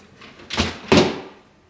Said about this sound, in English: I'm just gonna pull both the drawers out.